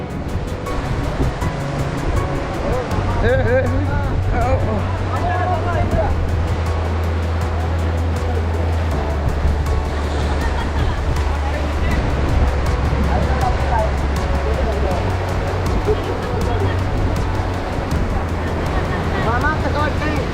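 Sea waves roll and wash continuously, mixed with wind rumble across the whole stretch, with no clear talk on top.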